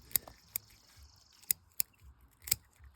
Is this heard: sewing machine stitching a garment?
no